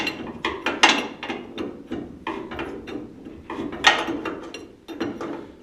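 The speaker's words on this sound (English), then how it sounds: "It's just really difficult to get in here and turn the nut, with this core support on here to tighten this up." A wrench works the nut on a strut rod of a 1966 Ford Galaxie 500 convertible, giving close, irregular metallic clicks, ratcheting taps and clanks in quick bursts, with no voices.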